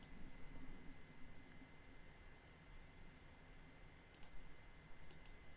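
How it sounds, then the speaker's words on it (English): A computer mouse clicks a few times, sharp and faint, over a quiet hiss at a desk. "Let's just keep on clicking random articles until we find something."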